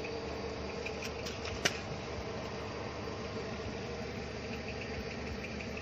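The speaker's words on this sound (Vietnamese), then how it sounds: "Nó máy nổ khá là êm." A 2002 Ford Laser with a 1.6 engine idles smoothly and steadily at a moderate distance, an even low hum with faint fan whir and one brief click, with no voices.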